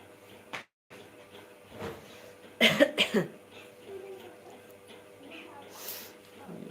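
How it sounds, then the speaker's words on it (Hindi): A short burst of three or four harsh coughs up close, with quieter sounds and a faint voice around it. "सर्दी हो गई और खांसी भी आ रहा है भाई।"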